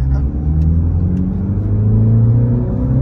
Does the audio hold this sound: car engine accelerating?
yes